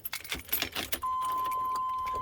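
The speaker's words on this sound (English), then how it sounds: "Turn this car on real quick." Keys jangle in the ignition of a 2000 Chevrolet K2500 truck, close and metallic, followed by a steady high electronic chime as the ignition switches on.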